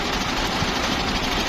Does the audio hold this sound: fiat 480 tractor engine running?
yes